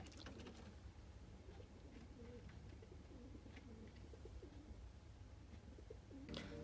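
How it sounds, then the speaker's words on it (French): Pigeons coo inside the walls of a rooftop apartment at the top of a building, repeated soft low throaty calls running steadily throughout, fairly close and muffled by the surrounding structure. "à l'intérieur de mes murs, il y a les pigeons."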